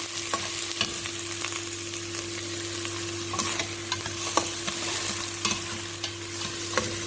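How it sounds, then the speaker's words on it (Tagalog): Chopped onion sizzling in hot oil while being stirred, a steady crackling fry broken by regular clicks of a spoon against the pan, close and alone without any voice. "kung mainit na yung oil, ilagay ko yung onion. Halo-haloin lang guys ha."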